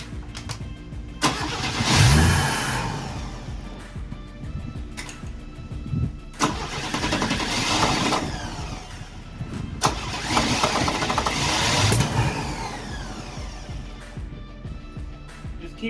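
A 1979 Chevy Nova with a rebuilt carburetor is started repeatedly. Each attempt brings a surge of engine noise that swells and fades, with a few sharp pops of mild backfiring in three main bursts.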